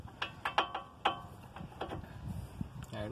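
A 17 millimeter socket wrench ratchets on a tie rod nut of a 2010 Mazda CX-7, a faint close series of irregular clicks in short bursts.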